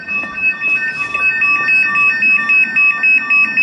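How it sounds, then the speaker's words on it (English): A Besson alarm sounder wired to a Castle Caretech 2300 alarm panel sounds outdoors, a loud, piercing electronic tone pulsing in a steady rapid on-off pattern, close and continuous. "That's a Besson sounder."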